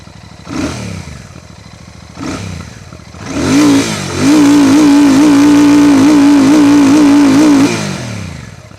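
A Royal Enfield Classic 650 Twin idles with a couple of short blips, then revs up into a loud, steady held throttle with a deep, even exhaust beat close by, settling back down at the end.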